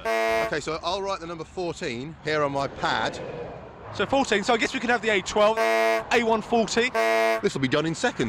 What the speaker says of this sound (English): the gratuitous honking of an old-fashioned horn